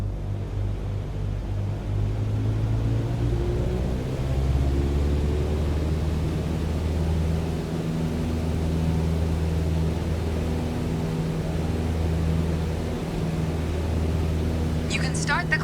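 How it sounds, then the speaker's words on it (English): A Cessna 152 engine at full climb power in Microsoft Flight Simulator, a steady low droning rumble with slowly shifting tones, continuous throughout, ending with a brief faint click. "On the Cessna 152, you need full power to climb effectively."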